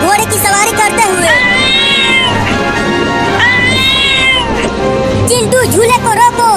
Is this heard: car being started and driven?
no